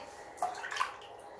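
Water runs and splashes into a large bathroom sink, a soft steady pour with a few brighter gurgles and drips, close and alone with no voices.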